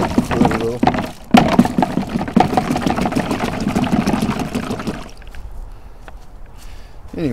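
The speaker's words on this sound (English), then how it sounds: "agitate the fluid a little" A big brush sloshes and scrubs through fluid inside a Chevy S-10 2.8 engine, near the EGR port and baffle, a busy wet rhythmic agitation that runs for about five seconds before fading to faint rustles.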